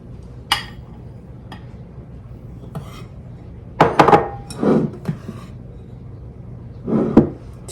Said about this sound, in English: we're just going to stir that together